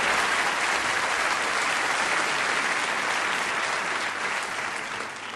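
Sustained applause from a comedy show audience, dense and steady clapping that fills the whole stretch and eases slightly at the end.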